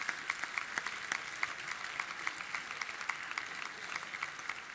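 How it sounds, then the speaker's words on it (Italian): A small audience at a Sicilian Christmas event claps for the mothers, fairly faint and distant, with steady, scattered hand claps throughout. "Questo applauso alle mamme."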